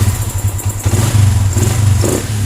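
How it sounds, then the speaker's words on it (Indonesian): A motorcycle engine, on a Viction scooter that had a fuse fault, cranks on its electric starter and catches, settling into a steady close, loud chugging idle with a brief rev near the end. "Terus sekarang kita starter."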